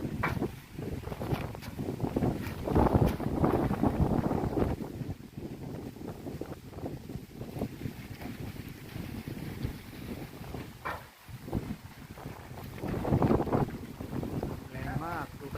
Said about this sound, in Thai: วันนี้ลมแรง